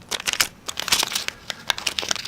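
Paper money crumpled and crinkled in hand, a dense run of close, crisp rustles and crackles with no talk.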